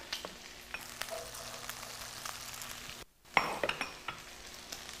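Garlic, scallions and chili go into a hot pan and stir-fry with faint sizzling and scattered scraping clicks of a utensil. A short gap is followed by a louder burst of sizzle and clinks, close and fairly quiet.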